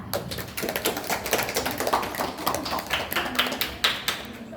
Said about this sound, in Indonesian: Mari kita sambut setiap penampilan dengan tepuk tangan yang meriah.